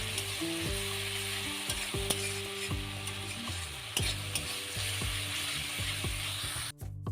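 Spice paste with chilli powder fries in oil for a Bengali boal fish curry, a steady close sizzle broken by repeated scraping stirs of a spatula against the pan, with no talking.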